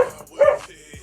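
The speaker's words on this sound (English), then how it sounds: "Excuse the dogs barking in the background" Dogs bark and yip in a backyard, with a few sharp, close barks in quick succession, one louder burst in the middle and a shorter yelp at the end, with no one speaking over them.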